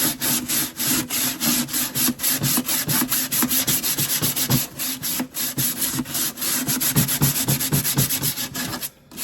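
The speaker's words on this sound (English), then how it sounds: "we're gonna take some sandpaper." Sandpaper rubs over wood in quick back-and-forth strokes, a loud, close, rhythmic scratchy rasp that runs without a break until a short pause at the end, with no voices.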